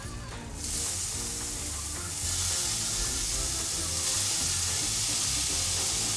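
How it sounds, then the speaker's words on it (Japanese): Minced meat sizzles in oil with doubanjiang, garlic and ginger, a steady close frying hiss that jumps louder as more goes into the pan, with low clatter underneath and no talk. "ある程度油がね、透明になるまで炒めていきます"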